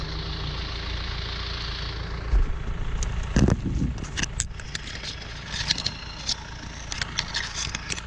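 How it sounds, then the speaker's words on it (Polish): A John Deere tractor engine idles steadily while pulling out young trees, with a brief mechanical clatter and a few sharp knocks partway through, fairly close and without speech. "z tym ciągnikiem ta robota przebiega bezproblemowo"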